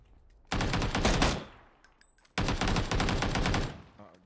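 Gunfire fills a video game match in two dense, loud automatic bursts, each about a second long. A short quiet gap separates them, with faint chatter in it.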